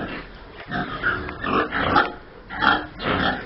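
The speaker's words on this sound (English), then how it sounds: "listen to those pigs making a lot of noise up there" Several pigs grunt and snort in quick bursts, close by, a rough uneven chorus of squeals and grunts.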